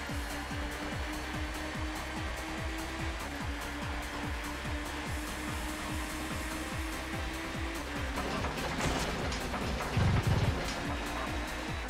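Steady rain hisses over a rhythmic, pulsing engine drone in the PS1 racing game TOCA Touring Car, with a brief louder burst near the end.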